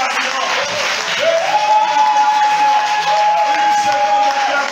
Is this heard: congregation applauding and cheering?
yes